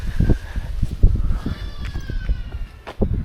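A goat bleats several times in quick, wavering calls at a rural spot in the far south of Japan, moderately close and mixed with light background noise.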